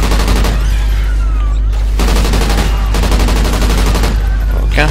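Loud, dense automatic gunfire in the Call of Duty: Ghosts Chaos mode, rattling almost continuously in sustained bursts with brief gaps between them.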